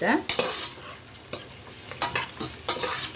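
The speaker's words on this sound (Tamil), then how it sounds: "ஸோ அதையும் நம்ம போட்டுட்டு ஒரு 1 மினிட் வதக்கிடலாம்." Sliced onions sauté in a pan for tomato rice, stirred with a spoon in a few distinct scraping strokes over a steady close sizzle.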